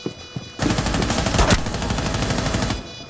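Sustained automatic gunfire rips into a bomb defuser in Rainbow Six Siege, a dense rapid burst of close, loud shots lasting about two seconds before stopping abruptly.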